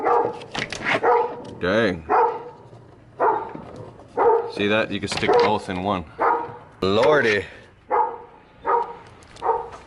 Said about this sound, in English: Ooh, that's a scary doggy